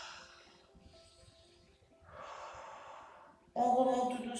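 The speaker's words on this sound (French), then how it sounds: "On prend 2 ou 3 grandes respirations." Deep breaths taken during a head-down stretching exercise: slow, close breathing in and out, ending in a louder, sharper inhale or exhale.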